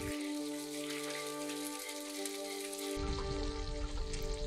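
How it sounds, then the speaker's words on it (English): Eggs scrambled in a hot oiled pan, a steady sizzling crackle that grows a little louder partway through, close and with no voices. "Scramble the eggs."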